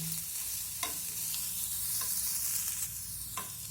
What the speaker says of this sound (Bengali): এখন আমি এর মধ্যে দিয়ে দেবো কেটে রাখা পেঁয়াজ রসুন আর কাঁচা লঙ্কা সব কিছু নেড়ে চেড়ে ভেজে নেব